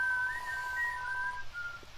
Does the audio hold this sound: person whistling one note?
yes